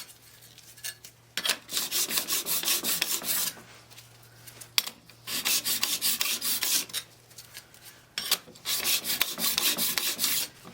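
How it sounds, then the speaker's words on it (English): Steel card scraper edges being filed to remove the burr, heard as three long, close rasping bursts of back-and-forth strokes separated by short pauses. "Now we need to remove the burr that's created on the edges by the filing."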